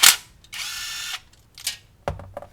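A power tool removes 8mm bolts from the transmission of a 2005 Dodge Durango 5.7 Hemi, giving short high whirring bursts separated by clicks and ratcheting knocks, close and loud.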